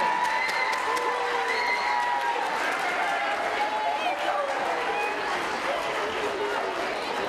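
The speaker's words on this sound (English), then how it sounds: "Let's give another round of applause for them" Crowd applause at an intermediate school choir concert, a dense roar of clapping mixed with cheering and overlapping voices, sustained at an even level throughout.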